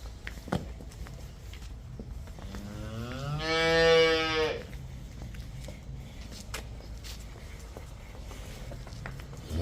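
A cow gives one long, loud moo midway, set among faint shuffling and hoof steps in a dairy farm shed where cows and calves are kept for sale.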